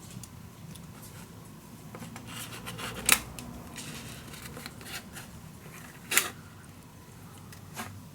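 Scissors snip through scrapbook paper up close, a quiet creaking rasp of blades with a few sharper cuts standing out, no talking.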